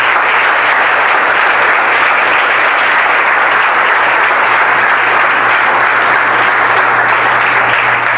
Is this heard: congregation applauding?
yes